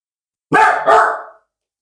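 Two sharp, close barks from a dog indoors, one straight after the other, then quiet.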